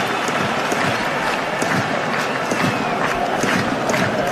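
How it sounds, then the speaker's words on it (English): Home supporters at a Tromsø football match in the Conference League applaud and cheer a corner kick, a dense, steady wash of clapping and crowd noise that continues throughout. "which gets a rapturous round of applause from the home supporters"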